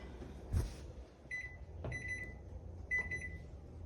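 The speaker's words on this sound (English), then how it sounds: "now I'm going to put it in the microwave" A microwave oven runs while heating chopped plastic bait for remelting, a steady faint hum with a clunk, a couple of soft clicks, and repeated high electronic beeps near the end.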